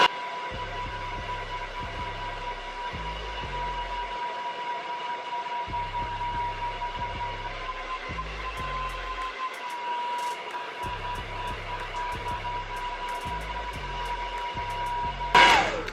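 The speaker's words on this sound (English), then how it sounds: "So I'm gonna blow dry it with my Hot Tools blow dryer." A Hot Tools blow dryer whirs steadily throughout with a constant high hum while drying hair, with low rhythmic thumping music playing in the background.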